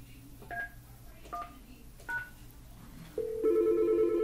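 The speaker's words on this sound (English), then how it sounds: "Now dial my extension." Telephone keypad DTMF tones sound as an extension is dialed on a 3CX phone system: three short beeps spaced about a second apart, then a sustained ringback-style tone pattern begins, close and clear.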